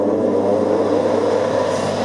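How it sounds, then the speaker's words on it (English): A milling machine cutter running at full speed, a loud, steady mechanical hum with a tonal whine that holds even throughout. "I'm going to run the cutter as fast as it'll go"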